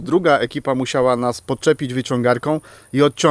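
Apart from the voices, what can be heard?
No distinct noise like a dog, phone or traffic.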